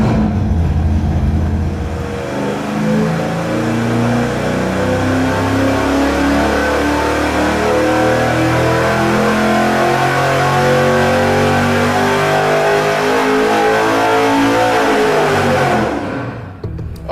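An engine fitted with a Weiand roots supercharger at 5.5 psi of boost makes a dyno pull, a loud, close, sustained roar climbing in pitch for about fifteen seconds and then cutting off sharply.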